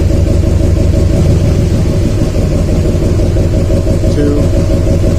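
A 2007 Duramax LMM diesel runs steadily with injector 1 disabled, giving a loud, continuous low rumble with an uneven knock, and a voice speaks over it briefly.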